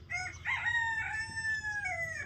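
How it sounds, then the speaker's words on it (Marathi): A rooster crows once at moderate distance, one drawn-out call with a rising start and a long wavering tail, heard alone over faint background noise. "कोंबडा रोजच हाका मारतोय"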